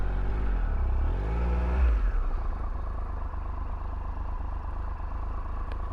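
Motorcycle engine revs up close by ahead of a tight low-speed U-turn, a brief rising surge that settles into a steady, slightly raised running drone, with no talking.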